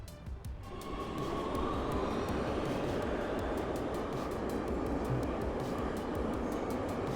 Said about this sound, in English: I love these subway rides.